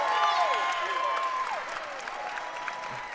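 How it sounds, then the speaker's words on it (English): Crowd applause fills a gym at a girls' high school basketball state quarterfinal between Virginia High and Chatham, with steady clapping and cheering throughout, along with shoe squeaks on the court. "They've earned a round of applause tonight."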